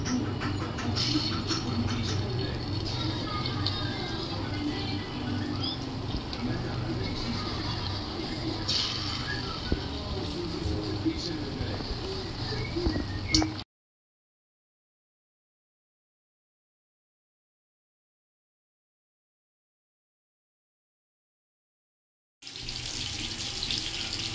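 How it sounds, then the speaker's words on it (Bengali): Chicken pieces for dry chilli chicken sizzle in hot white oil over a medium gas flame, a loud, crackling fry that cuts out completely for several seconds before resuming. "এবার আস্তে আস্তে চিকেনগুলো দিয়ে দিতে হবে।"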